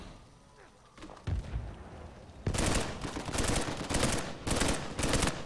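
Gunfire in an Uncharted 4 multiplayer match: rapid bursts of automatic shots in several clustered volleys, loud and close, after a quieter opening with a few scattered thuds.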